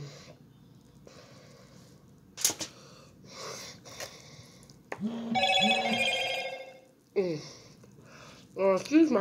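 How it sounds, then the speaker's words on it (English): A phone rings during a buffalo wings mukbang with blue cheese, its bursts of ringing rising clearly for a few seconds amid chewing, sniffing and nearby talk. "Excuse my phone."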